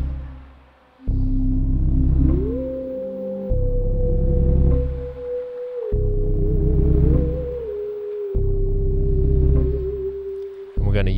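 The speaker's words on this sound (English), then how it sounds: "today we're going to make a spooky Halloween theremin instrument" A spooky Halloween theremin built from Ableton Live's Wavetable synth sings a wavering, gliding tone that slides between held pitches, laid over chunky repeating bass-heavy blocks of sound that stop and start in even phrases.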